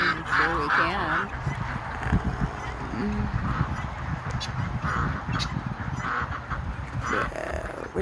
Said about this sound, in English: That's one of my guinea fowl.